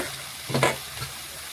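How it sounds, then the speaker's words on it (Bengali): Punka greens with eggplant and potato stirred in a pan, a brief scraping swish of the spatula over a soft steady sizzle, close by. "নাড়াচাড়া করে বেগুন আলুর সাথে মিশিয়ে নেব ভালোভাবে"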